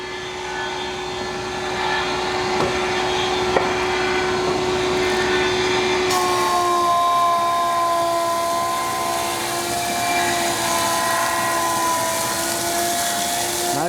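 A bandsaw with a 1/2 inch blade hums steadily while it mills a small log in a shop, a loud continuous drone with a clear tonal whine that shifts pitch partway through the cut.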